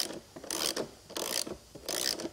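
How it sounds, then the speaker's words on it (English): A socket ratchet turns a standard screw out of the frame and tank on a KTM 690 motorcycle, giving three close, brisk bursts of rapid mechanical clicking separated by brief pauses. "using a Torx socket. Unscrew the standard screw from the frame and tank."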